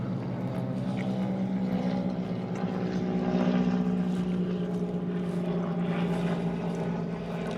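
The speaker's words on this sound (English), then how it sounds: "Little airplane flying over." A small airplane flies overhead, a steady droning engine hum with a buzzing tone that swells slightly midway and then holds. It sounds continuous and moderately distant, with no talking.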